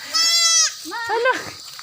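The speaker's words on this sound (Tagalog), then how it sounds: "Ang ingay mo kambing." A baby goat gives a loud, close, sustained bleat, then a second shorter wavering bleat, with a person's voice speaking alongside.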